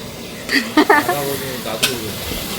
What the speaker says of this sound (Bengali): চলো এখানে দেখো মাংস বানাচ্ছে